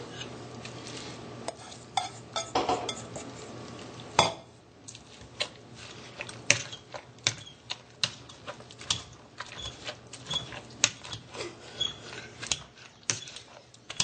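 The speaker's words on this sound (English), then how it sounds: "we're going to smoosh up the potatoes and throw a little milk in there" Potatoes being mashed and stirred with milk and onions in a pot, giving scattered clinks and scrapes of a utensil against cookware at close range, with no talking.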